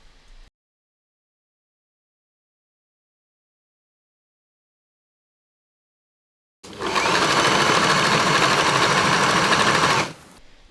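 A sewing machine stitches the shoulder and side seams of a baby tee top, running in one continuous close, loud whirring burst of about three seconds after a long silence.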